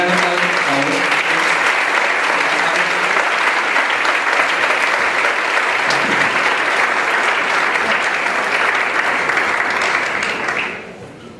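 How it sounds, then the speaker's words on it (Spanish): An audience at a panel discussion gives a long, steady round of applause, dense and even for about ten seconds before quickly dying away, with a voice briefly heard at the start. "Un gran aplauso, por favor."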